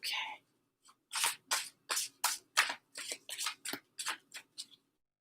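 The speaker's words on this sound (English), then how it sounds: "Give it a good shuffle." Oracle cards riffle and snap in a quick series of crisp bursts, a dozen or so close rustling shuffles in an otherwise quiet room.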